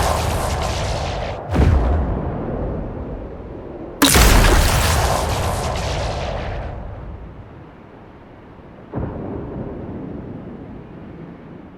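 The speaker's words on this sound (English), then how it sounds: "while further ones use dedicated distant explosion samples." Three heavy distant explosions from an Unreal shooter game boom out in turn, each with a rumbling tail that fades slowly; the second is the loudest and longest, and the third is softer.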